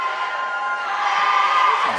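A festive student section roars at a high school boys basketball game between Pleasant Grove and Timpanogos, a steady, full crowd noise that holds for two seconds with a few shouts rising out of it.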